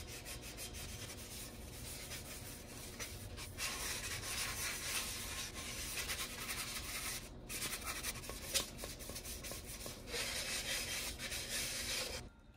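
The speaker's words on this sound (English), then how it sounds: "I'm going to use this sanding block." A sanding block is rubbed against a tumbler cup in continuous, steady scratchy strokes, close and unbroken for the whole stretch, with no talking.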